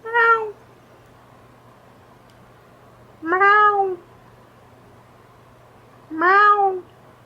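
A cat meows three times, each call drawn out and clear, spaced a few seconds apart over a low steady hum.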